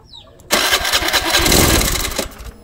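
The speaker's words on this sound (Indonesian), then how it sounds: "lalu kita tekan tombol starter ya" A fuel-injected motorcycle engine cranks after its starter button is pressed, a sudden loud, close mechanical roar that holds steady for about two seconds before cutting back.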